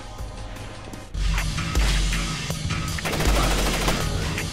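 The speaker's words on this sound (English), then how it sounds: "I hear gunfire." Gunfire in the stealth video game Splinter Cell: Chaos Theory, sudden bursts of rapid automatic shots with heavy low thumps, loud and dense, starting after a quieter stretch and with no voices.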